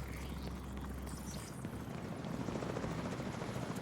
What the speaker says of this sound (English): Oh, it's just choppers overhead the whole time.